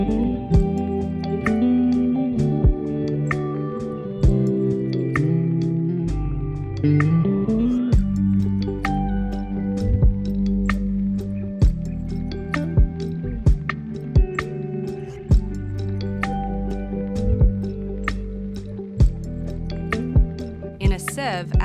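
Eggs being mixed into cake batter in a bowl for a vanilla pound cake, with repeated wet clicks and squishy taps of the utensil against the bowl in an irregular rhythm, close and moderately loud.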